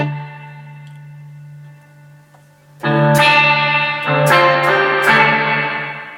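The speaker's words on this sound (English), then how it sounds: "Soldered in the extra capacitor for extra gain on the reverb." A serviced 1995 Peavey Valverb three-tube reverb and tremolo processor with an added capacitor for extra reverb gain: a steady low hum gives way to loud, sustained, washy tones with echoing decay swelling in several bursts.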